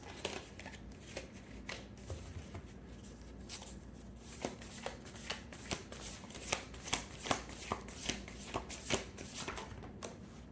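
A deck of tarot cards is shuffled by hand in repeated riffling, flapping bursts that grow busier and louder toward the end, close by with a faint low background and no talking.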